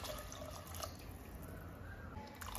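Water pours softly and steadily into a cooking pot of quinoa kichdi holding peanuts, chopped beans and carrots, a faint close splashing with no talk.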